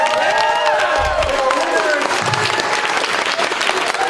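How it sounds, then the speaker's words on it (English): Audience applause at a convention wig contest, a round for the contestants, steady broadband clapping under cheering voices and a brief melodic tone near the start, filling the space throughout. "let's have one more round of applause for all of our contestants"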